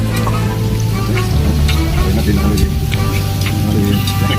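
Steady loud sizzling and crackling of large prawns frying in hot oil, close up, with scattered pops throughout.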